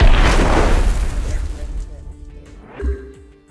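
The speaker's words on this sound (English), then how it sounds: "I'm gonna use fire blast" A Fire Blast attack effect in a dragon-themed Pokémon card video game bursts out as a loud, rumbling boom that fades, followed by a smaller thump near the end, with speech over it.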